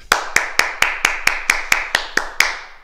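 A group at an exercise class claps in unison after a towel workout: about eleven sharp, evenly spaced claps at a brisk steady rhythm, close and crisp, with no talking.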